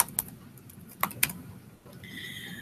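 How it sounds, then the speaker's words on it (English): Tapping on a Chromebook keyboard, a few sharp, sparse clicks close by in a quiet room, followed by a steady tonal hum near the end. "I'm going to say, I am typing a sentence."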